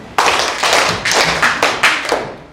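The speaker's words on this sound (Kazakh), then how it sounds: "Балалар, осы жұптық жұмысты 3 шапалақпен өзімізді бағалап қояйық" A class of schoolchildren claps together in a classroom, a series of loud, slightly ragged group claps in quick succession, close and with no talking.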